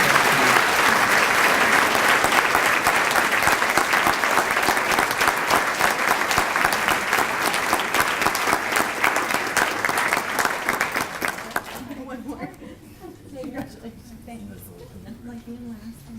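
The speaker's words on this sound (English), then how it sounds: "Please let's give them all a round of applause." A large audience applauds honored teachers at a Teacher of the Year ceremony, loud and sustained for about twelve seconds before fading out into quiet room sound with some talk.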